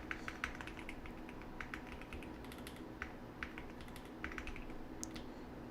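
Rapid keyboard typing during a TypeRacer typing game, a steady stream of light clicks with occasional sharper key taps, close and fairly quiet, with no talking.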